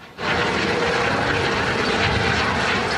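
Loud, steady roar of a low-flying tour helicopter passing overhead, continuous broadband engine noise starting abruptly and holding for the whole stretch.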